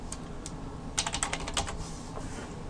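Quick keystrokes on a computer keyboard while entering HTML code, a short burst of close, crisp taps in an irregular rhythm with no talking.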